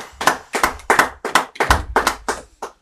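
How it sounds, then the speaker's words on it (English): An audience at a Sabbath service claps for a speaker, a brief round of about eight loud, evenly spaced hand claps close by that slows and fades out with no voices. "clap it up for the brother"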